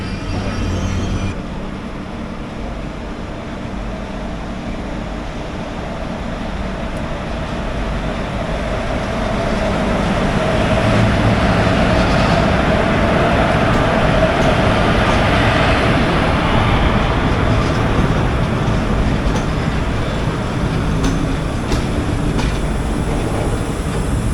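A train pulling into platform number 1 on the opposite line, heard from aboard the 12790 Mangalore-Kacheguda Express at Kozhikode: a broad, steady rumble that swells after the first ten seconds and holds loud, with faint rail clatter and no talk.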